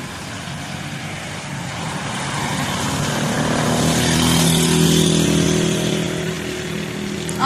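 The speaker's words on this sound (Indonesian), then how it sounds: "Oh, may motor." A motorcycle passes on a street near Gambalan Hospital, its engine hum swelling louder as it nears and then easing off, heard alone over a steady outdoor background.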